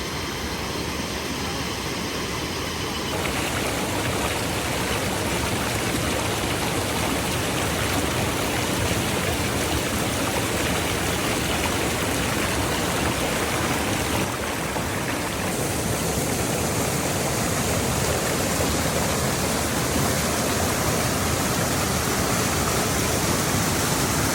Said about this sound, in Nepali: खोलामा नुहाउन गएको है, हाम्रो गाउँको शुद्ध पानीमा।